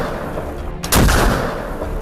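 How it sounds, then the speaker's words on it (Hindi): A single sharp gunshot cracks out close and loud amid steady background noise, part of Pakistani army fire at the Line of Control. "पाकिस्तान की फौज गोलियां बरसा रही है"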